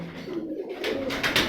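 Champion-breeding pigeon pairs of Ustad Abrar Ahmad Khan Piplan coo on a rooftop, a brief, close, throaty call.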